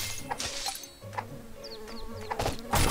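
Bees buzz in the video game Secrets of Grindea, thin whining flits rising and falling several times over a busy game soundscape of blips and low tones, with no one talking.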